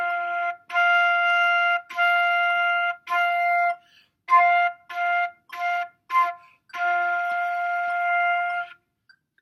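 A flute plays a four-measure introduction on F, sustained tones in short phrases with brief gaps, a few detached notes mid-way, close and clear with no talking.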